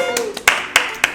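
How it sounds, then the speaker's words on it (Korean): A voice finishes speaking, then a few sharp hand claps ring out one after another, close and loud with short gaps between them. "박수!"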